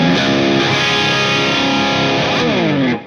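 An electric guitar played through an Xvive AC58 wireless system, with its receiver about a meter away, rings with a loud, distorted sustained chord and a sliding bend near the end before cutting off.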